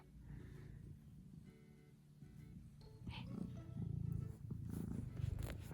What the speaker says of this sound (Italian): Fa le fusa.